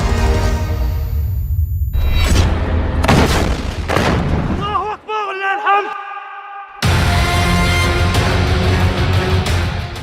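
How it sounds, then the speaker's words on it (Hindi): Hamas fighters fire RPGs and rockets at tanks from ruined buildings in Gaza urban combat, producing several loud, heavy booms in quick bursts, mixed with voices and a wavering whistle-like tone. "हमास के लड़ाके अचानक तबाह इमारतों से बाहर निकलकर आरपीजी फायर कर रहे हैं, या फिर टैंकों पर सीधे रॉकेटों से हमले कर रहे हैं"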